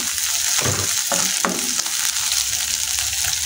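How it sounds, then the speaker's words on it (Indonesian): Shrimp heads stir-fried in a pan sizzle with a steady, bright hiss, punctuated by a few clinks and scrapes of stirring, with no voices. "Kita masukkan kepala udang."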